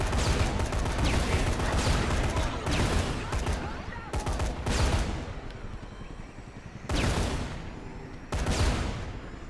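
Gunfire in the video game Dead Rising: loud, dense bursts of rapid shots repeating in several long volleys separated by brief pauses, close and dominant throughout.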